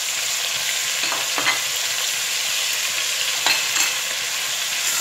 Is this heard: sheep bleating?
no